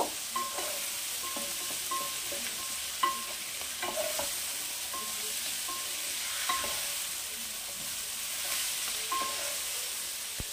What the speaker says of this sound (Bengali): একটু ভালো করে ভাজা ভাজা করব।